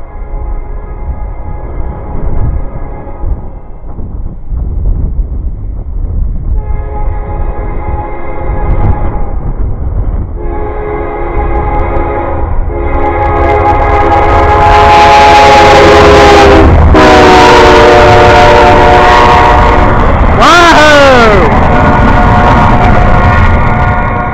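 A short intermodal train approaches and passes, its horn sounding in several long blasts that grow louder and closer, over a rising rumble of wheels and engine.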